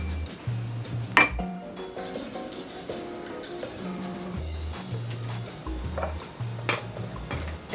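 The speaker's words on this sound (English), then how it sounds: "now I'm just gonna mix it all up until the ingredients are all incorporated" Cake batter for a chocolate Guinness cake being mixed in a bowl, with repeated clinks and scraping of a utensil against the bowl, fairly close and steady, with no talking.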